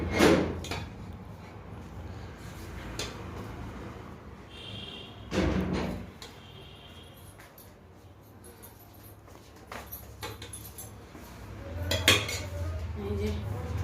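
Plates and cutlery clinking while steamed rice is served at home: scattered close clinks and scrapes of dishes and spoons, a few louder clatters among quieter handling.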